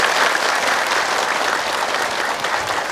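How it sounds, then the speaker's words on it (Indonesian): A studio audience of women at an early-morning televised religious talk show claps together in a sustained, dense burst of applause, loud and even throughout with no speech over it. "Tepuk tangan, semangat juga."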